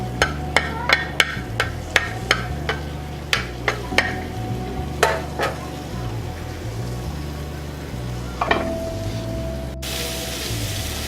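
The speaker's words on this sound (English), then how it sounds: "just use the spoon or the tongs to kind of separate the pancetta" Pancetta frying hard over high heat, seasoned with salt and pepper, with a steady sizzle and a run of sharp metallic clinks and scrapes as a spoon or tongs separate the pieces, close and clear with no talk.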